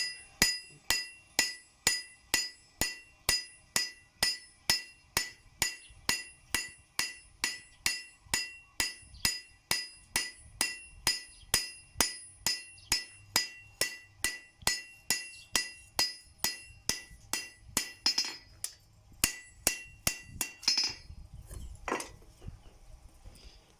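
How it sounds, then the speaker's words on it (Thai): Steady, ringing hammer blows strike metal over and over in an even rhythm, close by, forging a pointed knife blade from a saw blade, slowing into scattered taps and clinks toward the end. "ตีมีดแหลม"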